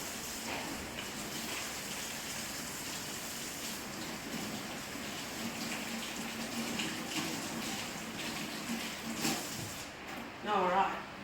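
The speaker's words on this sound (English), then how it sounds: "I'm going to go and wash my hands quickly" A tap runs steadily while hands are washed, a close and continuous splashing rush of water with a slight swell in loudness near the end.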